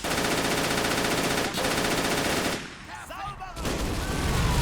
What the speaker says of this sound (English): Autocannons just turning that farm field into a Michael Bay film trailer